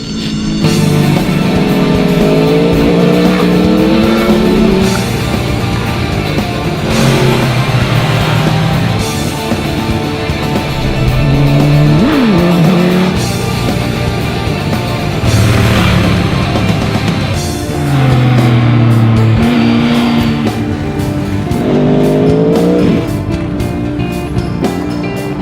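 Naked sport motorcycles, among them a Suzuki GSX-S1000, a Triumph Speed Triple S and a Honda, ridden hard on open roads. Loud, close engine drone climbs and falls with each gear change under constant rushing wind.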